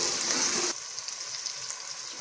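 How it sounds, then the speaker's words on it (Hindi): Whole small red chilies and cumin fry in hot oil with a steady, bright sizzle, louder for the first moment and then settling into a softer continuous crackle. "अब इसको थोड़ी देर फ्राई करेंगे।"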